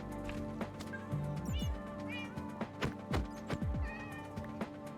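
Several cats meow in the Minecraft video game, short game-style mews repeating at irregular intervals over a steady background of game ambience, with horse clip-clops and whinnies mixed in.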